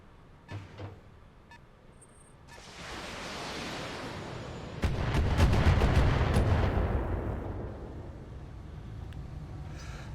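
BattleTech mech weapons discharge in an urban battle: a rising whoosh builds, then a heavy roaring volley with a rapid crackle of shots peaks midway and slowly fades, heard without talk.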